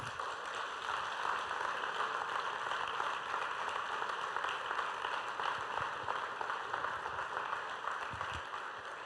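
Steady applause from a church congregation, a dense even wash of clapping that holds for the whole stretch at moderate distance, with no voices rising above it.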